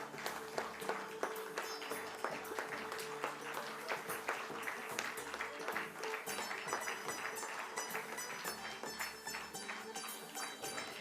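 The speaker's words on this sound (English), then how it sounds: "let's keep the applause going" Audience applause fills a listing ceremony hall for Canara Robeco Asset Management Company, with steady, dense clapping sustained throughout at moderate level, a continuous crowd texture without a clear break.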